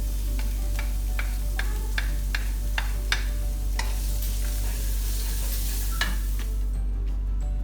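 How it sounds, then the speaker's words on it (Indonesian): Garlic and scallions sizzle steadily in hot oil while a utensil scrapes and taps the pan in a quick, regular rhythm. "Ditumis sampai harum dan sedikit layu."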